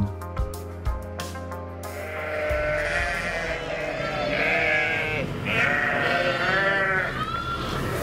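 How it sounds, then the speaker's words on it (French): A flock of Lacaune dairy ewes and their lambs bleating loudly and close by, overlapping wavering calls following a few sharp knocks at the start. "un troupeau de 350 brebis laitières de race Lacaune"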